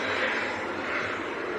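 Ryanair airliner on landing approach at Leeds Bradford Airport, a faint, distant, steady jet roar lasting under two seconds.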